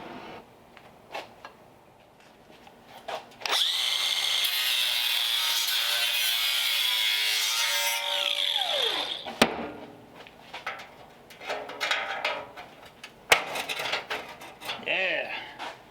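A power tool grinds steadily through the last weld on a truck dash, a harsh sustained whine lasting several seconds before spinning down, followed by clattering handling noises and brief talk.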